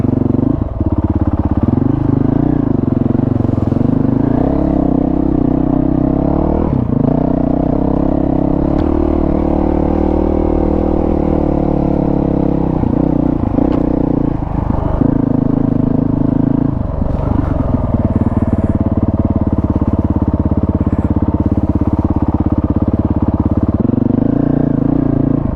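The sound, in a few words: dual sport adventure motorcycle riding in first gear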